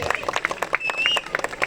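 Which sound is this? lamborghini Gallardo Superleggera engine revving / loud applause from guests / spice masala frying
loud applause from guests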